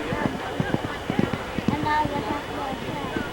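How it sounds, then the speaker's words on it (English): Horse hooves clip-clopping in an irregular rhythm at moderate distance during a horse jumping competition at a fair, with murmuring voices and crowd noise beneath. "The fair carried on all day, culminating with the horse jumping competition."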